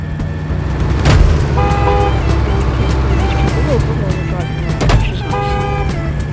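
A fast supercar drives in the mobile game Sneaky Sasquatch, a continuous engine drone with two short horn-like toots around the middle and near the end.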